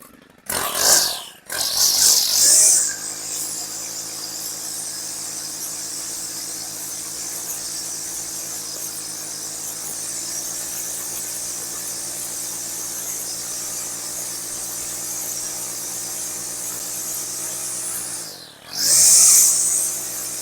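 A weed whacker runs at a steady, even whine for about fifteen seconds while trimming, with brief bursts of handling noise at the start and again near the end.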